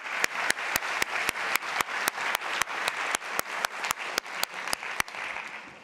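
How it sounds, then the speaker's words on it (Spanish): Audience at a Spanish-language conference plenary claps in a crisp, evenly paced rhythm, about four sharp claps per second, close and loud, and tapers off near the end. "yo creo que eso merece otro aplauso"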